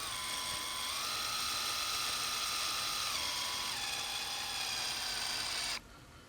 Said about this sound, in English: I'm going to drive this screw in until it's not quite all the way down